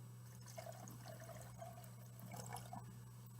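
Two hydrogen peroxide solutions being poured and mixed together, a quiet liquid trickle and splash over a steady low background hum, with brief clinks near the end.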